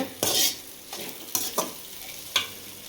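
Fish puttu being stirred in a pan, a few separate scraping strokes with a faint dry sizzle beneath, close and fairly quiet with short pauses between moves.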